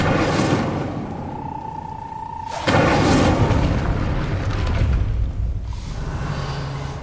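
The Incendio fire spell cast in the video game Hogwarts Legacy bursts into a sudden loud whoosh and boom partway through, followed by a rumbling fiery roar that slowly fades over a quieter ambient background.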